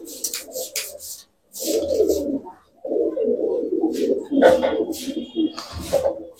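Pigeons coo in several loud, close bursts of throaty, rolling calls separated by short pauses.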